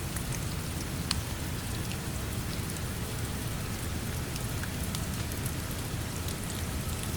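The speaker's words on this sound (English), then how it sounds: "leans her head back against the cool glass of the window, and listens to the rain" Steady rain falls without pause, a dense, even hiss with scattered droplet patters close by and no voices.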